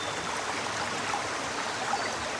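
Water flowing steadily through a small stream on a farm, a continuous broadband rush and babble that stays even and fairly close throughout, with no voices.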